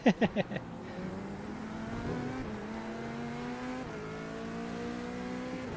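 DTM race cars in a racing video game drone steadily at close range, engines holding a sustained pitch with shifts up and down, after a brief burst of rapid revving at the start.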